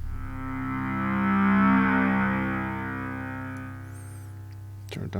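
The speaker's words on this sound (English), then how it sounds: "It's a big reverb patch." A sustained synthesizer tone swells slowly and fades with a long, washy reverb tail, followed by a brief clattering noise at the end.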